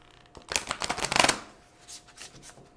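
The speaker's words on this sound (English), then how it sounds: "I'm going to shuffle these, see if I can shuffle these better" A quick riffle of cards flutters up close for about a second, then a few softer card taps and shuffles follow.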